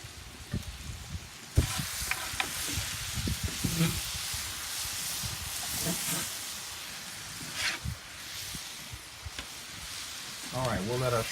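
Colossal shrimp sizzling on a Santa Maria grill, cooked hibachi style: a steady low hiss and crackle with scattered scrapes and clatter, and someone talking now and then over the frying.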